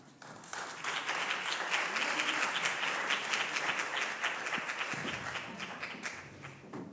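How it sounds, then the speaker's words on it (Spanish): An audience applauds steadily for several seconds, a dense wash of clapping that swells quickly and fades toward the end. "Un aplauso para ellos."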